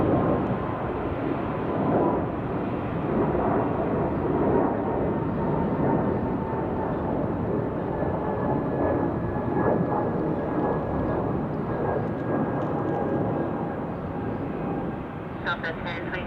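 Airliner taking off from runway 16 right at Salt Lake City, a loud continuous jet roar with rumbling low end and a faint rising whine, sustained throughout while voices talk over it.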